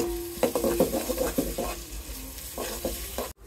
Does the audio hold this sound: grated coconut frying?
yes